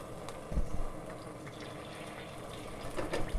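Water poured into a hot pan of garlic and oil while making spaghetti aglio e olio, a fairly quiet, steady hissing sizzle with a few louder splashes, no talking.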